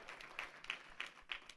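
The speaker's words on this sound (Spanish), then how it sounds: "Denle un fuerte aplauso al Rey de la Gloria conmigo en este momento" A church congregation claps in a sparse, faint rhythm: four or five sharp claps at even intervals, with a quiet room between them.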